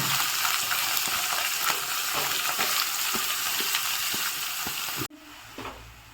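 Cabbage fries in a hot pan for schezwan fried rice with a loud, dense, continuous sizzle and faint stirring ticks, close up, before it drops abruptly to a quieter hiss near the end.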